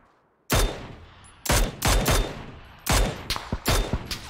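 Loud gunfire in a video game shootout from a solo-versus-squad battle royale match: four or five separate sharp bursts of rapid shots, each cracking out and cutting off, spaced about a second apart with short gaps of quiet between them.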